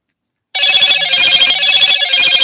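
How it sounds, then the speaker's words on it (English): A mobile phone ringtone starts abruptly after a brief silence and keeps ringing loudly and close by in a repeating bright electronic melody. "I forgot to put my phone on airplane mode."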